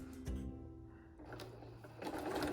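A home sewing machine runs steadily stitching around the edge of an advent wreath quilt, a soft continuous motor hum with a slight shift in pitch midway, heard alone.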